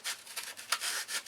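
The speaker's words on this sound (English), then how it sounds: "I'll keep sanding on this until I get her down" A model airplane fuselage being sanded down by hand, close up, with a steady run of short, raspy back-and-forth strokes.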